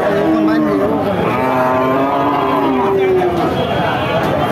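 A bull moos in long, drawn-out calls over a busy cattle market hum, with people talking nearby.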